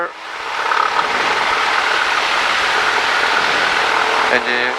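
Light aircraft engine roaring at full power during a takeoff run on a runway, a loud steady broadband engine drone heard from inside the cockpit, with a voice speaking briefly over it.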